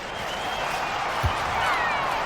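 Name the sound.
home crowd applauding in 2K basketball video game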